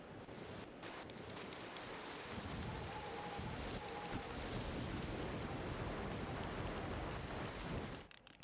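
Steady, dense rain roars through a stormy track in the Wave Race: Blue Storm water-racing game, a continuous loud downpour with faint rumbles, running alone and cutting off abruptly at the end.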